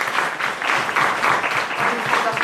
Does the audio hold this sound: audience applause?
yes